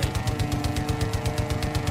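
Rapid automatic gunfire from the video game Far Cry 5, a steady stream of evenly spaced shots firing continuously at a fast clip, loud and sustained throughout.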